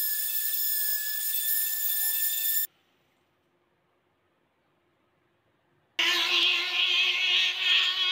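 A rotary mini drill shapes a pendant of shell and buffalo horn, its high steady whine running close and loud for about two and a half seconds, cutting to silence, then returning with a rougher grinding tone.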